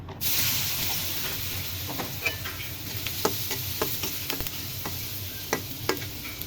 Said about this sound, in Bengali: তেল গরম হয়ে গেছে, এখন পেঁয়াজ ভেজে নিব।